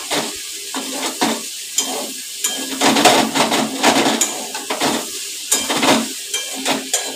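Food fries on a gas stove, a close sizzle broken by rhythmic spatula strokes scraping the pan in repeated bursts throughout.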